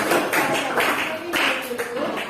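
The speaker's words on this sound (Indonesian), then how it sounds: "Tepuk tangan untuk kita semuanya." A group of children in a classroom clap their hands in a few bursts along with singing, close and fairly loud.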